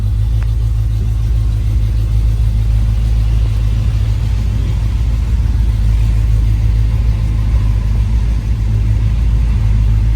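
A 1967 Chevrolet Camaro's engine rumbles steadily as the car drives off from the shop onto the road, a loud, continuous low drone with slight rises in revving throughout.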